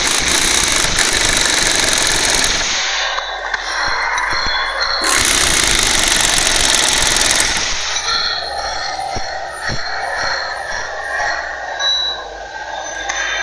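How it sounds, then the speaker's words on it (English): The unbalanced electric motor of a Virto Cuccolini vibratory sieve runs with a loud, continuous rattling drone that shifts in intensity partway through, close up and without voices. "This unbalancing will cause the vibratory sieve to move."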